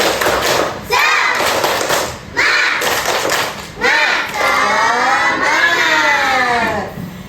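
A school class claps in rhythmic bursts while children chant loudly together, the claps and voices coming in repeated phrases separated by short pauses.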